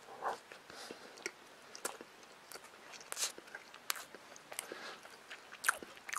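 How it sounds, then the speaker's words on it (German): Someone bites into a Monte Snack chocolate cream cake, white cream filling between two chocolate layers, producing faint, soft crunching and chewing clicks in a quiet room. "Jetzt beißen wir mal rein."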